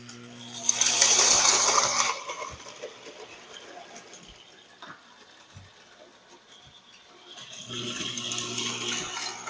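A Lionel O gauge crossing gate wig-wag buzzes and vibrates in two bursts, a brief loud electric rattle at the start and a fainter one at the end, with quiet clicks and handling noise between.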